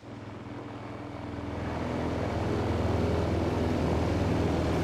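Propeller aircraft approaching for a wartime parachute drop of supplies over a mountain drop zone, a steady droning hum that swells louder over the first seconds and then holds, with no voices.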